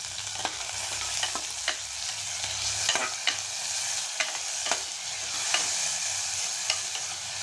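Small shallots with green chillies sauté in hot oil in a pan, a constant sizzle under regular spoon scrapes and taps spaced about half a second apart, close and fairly loud.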